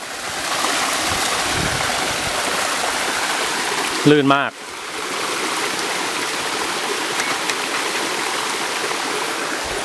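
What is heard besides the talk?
waterfall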